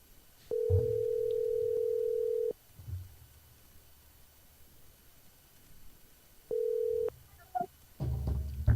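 A phone rings out on an outgoing call, two steady ringback tones of about two seconds and half a second separated by a quiet gap, clear and close, with a short burst of handling noise at the end.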